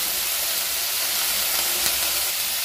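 Brinjal cut into small squares fries in a pan over a medium gas flame with salt and turmeric, giving a steady, even hiss and sizzle from start to finish with no talk.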